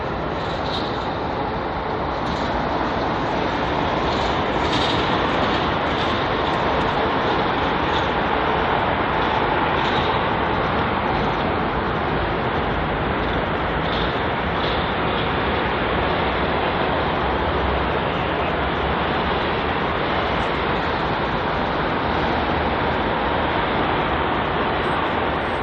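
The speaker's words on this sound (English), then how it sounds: "departing to Doha is the Qatar A380" A Qatar Airways Airbus A380 departs London Heathrow, its jet engines producing a loud, steady broadband roar that holds constant throughout, with no voices.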